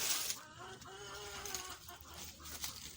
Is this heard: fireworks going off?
no